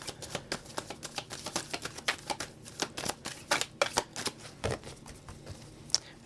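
Rapid riffling and slapping of a deck of tarot cards being shuffled, dense crisp clicks repeating in quick bursts, close up with no talking.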